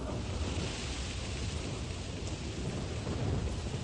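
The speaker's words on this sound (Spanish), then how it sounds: "La forma más común de precipitación es la lluvia." Steady, heavy rainfall pours down with a low, rumbling roll of thunder underneath, a dense continuous wash of sound with no voices.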